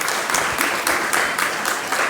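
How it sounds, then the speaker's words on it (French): Church congregation clapping for a birthday during a Sunday service, a brief dense burst of applause from many hands filling the room, loud and close. "Notre chère Ouella, je vous invite à l'applaudir, c'est son anniversaire."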